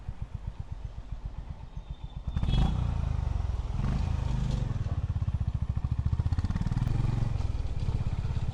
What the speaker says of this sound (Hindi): यहाँ पे इसका एग्जॉस्ट की आवाज़ सुनिएगा आप.